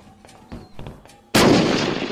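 A C4 charge detonates in the Unturned video game during a base raid, a sudden loud close blast with a long rumbling tail after a few soft clicks and thuds.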